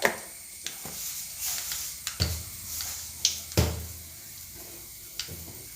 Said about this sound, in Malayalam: ആ സമയം കൊണ്ട് നമുക്ക് കടുക് പൊട്ടിക്കാം